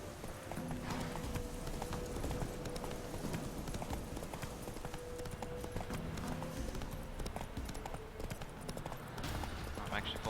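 Horse hooves clip-clopping in a rapid steady rhythm in The Witcher 3 video game, close and continuous over game music, with someone talking at times.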